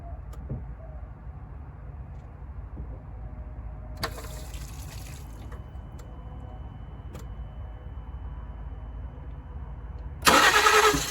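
A car engine with a weak battery cranks but fails to start, a low mechanical churning running steadily under outdoor background noise, with a louder burst near the end.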